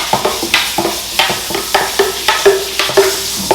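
A spoon stirring a drink in a glass, several quick clinking and swishing strokes in a steady rhythm, close and fairly loud with no talking.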